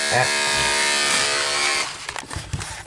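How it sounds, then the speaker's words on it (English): Electric clippers buzz steadily at close range while shaving a blind dog's ears during grooming, the motor drone continuing for a couple of seconds before breaking into rustling handling sounds. "I'm going to go ahead and shave these ears out."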